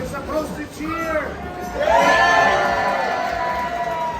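A crowd at a Seattle market breaks into loud cheering and whooping, with mixed voices shouting in the background before the cheer swells and holds.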